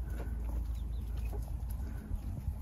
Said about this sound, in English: That there is Miss Charlotte, the barred rock, the Plymouth barred rock